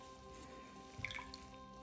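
Wet moss squeezed in cold water, with faint drips and small splashes in a container over a low steady background hum, close and quiet.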